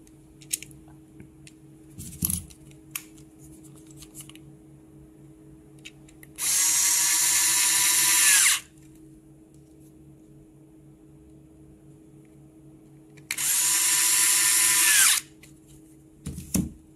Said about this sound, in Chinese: 然后把螺丝一上